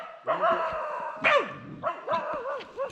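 Dog barking in a garden setting, several short, loud, close yips and barks coming in uneven bursts with a whiny edge, no talk over them.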